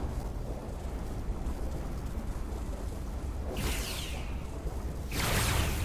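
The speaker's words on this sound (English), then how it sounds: "I'm gonna try to disrupt it with my phaser." Phaser fire in the Star Trek Resurgence game during a storm surge, two sweeping energy bursts cutting through a steady roaring storm background, the second one louder and longer.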